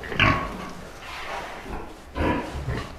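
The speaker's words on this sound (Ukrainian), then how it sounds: "Нюрка, це в нас була сама маленька свинка" A small pig on a farm grunts in two rough bursts, close and moderately loud, with a quieter snuffling stretch between them and no talk.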